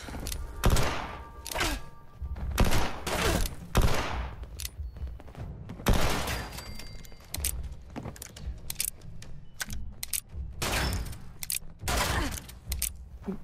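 Close, loud gunfire in Fallout 76 comes in rapid bursts and single sharp shots, spaced irregularly through the fight, with brief pauses between volleys.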